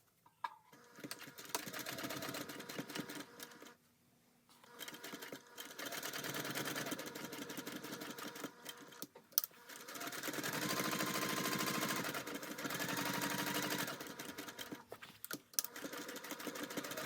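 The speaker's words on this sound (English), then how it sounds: "sew the pocket lining to the back panel along the sides and the bottom" A sewing machine runs in long continuous bursts while stitching a pocket lining to the back panel of a fabric bag, its steady whirring hum broken by short pauses, close by with no talking.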